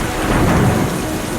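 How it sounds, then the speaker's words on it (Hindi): Heavy village rain pours steadily with a deep rumble of thunder rolling underneath, loud and close, the downpour forming a dense continuous wash throughout. "गांव में अचानक तेज बारिश शुरू हो जाती है।"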